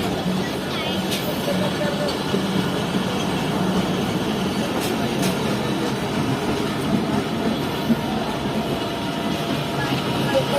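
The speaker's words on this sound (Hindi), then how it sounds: "ये हमारी ट्रेन, ये हमारी है।" A train with a KCR coach attached rumbles steadily nearby, a continuous rolling roar with faint clatter throughout and no clear voices.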